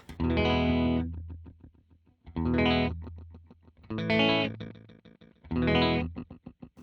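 An Eventide UltraTap delay pedal with its trigger engaged churns out four loud, glitchy bursts of stuttering, distorted repeats, each swelling and chopping into rapid ticking taps before the next burst.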